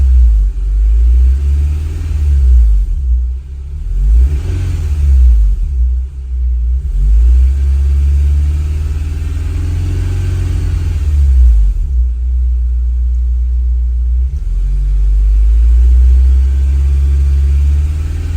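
Honda S2000 engine revving with a loud, deep low-end exhaust drone and rumble throughout, rising and falling in waves as the revs climb and drop.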